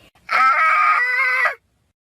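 A child screams loudly after being bitten by a snake, one sustained high-pitched cry lasting just over a second and then cutting off into silence.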